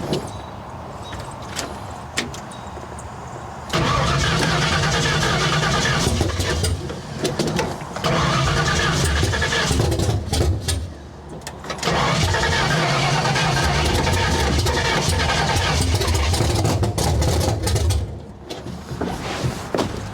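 A 1970 Ford Falcon with Trick Flow modifications is cranked, its starter churning loudly in several long attempts separated by short pauses, the engine catching and running roughly with popping in places.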